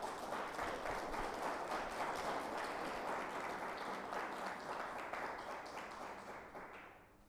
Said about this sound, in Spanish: Y vamos a darle un aplauso.